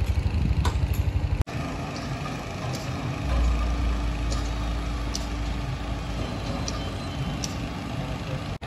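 A heavy truck rumbles past on a road beside toll road construction, a steady loud low engine drone lasting several seconds after a sharp initial clunk, with faint high clicks over it.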